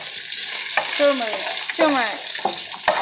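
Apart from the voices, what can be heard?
frying mustard seeds, curry leaves, chilies in oil, stirring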